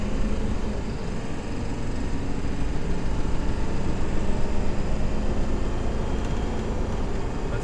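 A vehicle engine pulled hard at full throttle and shifting up through the gears, a loud, dense, continuous roar close to the listener, with no talking over it.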